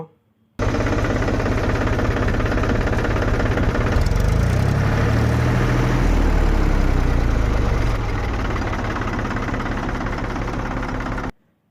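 A Mahindra 275 tractor engine in good running condition idles steadily with a low, knocking rumble that thickens and deepens in the middle before settling back, then cuts off.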